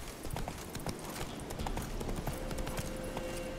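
Horse galloping in The Witcher 3: Wild Hunt, a steady rapid clip-clop of hooves on ground, close and continuous, with game background sound underneath.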